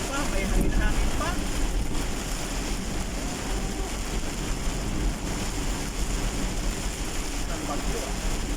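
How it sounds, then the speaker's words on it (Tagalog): Storm wind in Cavite, Philippines, buffets the microphone in a continuous roaring rush for the whole stretch, strongest at the start, with no break or pause. "May ano pa, may hangin-hangin pa."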